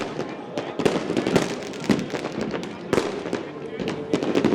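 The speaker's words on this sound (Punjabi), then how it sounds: "ਸਿਰਫ ਹਵਾ 'ਚ ਚੱਲਣ ਵਾਲੀ ਆਕਾਸ਼ ਚੱਲਣ ਵਾਲੀ ਪ੍ਰਦੂਸ਼ਣ ਰਹਿਤ ਆਤਿਸ਼ਬਾਜ਼ੀ ਜਿਹੜੀ ਹੈ ਉਹ ਕੀਤੀ ਜਾਵੇ" Fireworks burst over Sri Darbar Sahib during Prakash Purab celebrations, a dense run of sharp cracks and pops with louder bangs near one, two and three seconds, over a steady crowd murmur.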